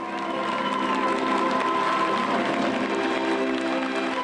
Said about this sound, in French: Une salle debout pour sa championne, de longues minutes d'applaudissements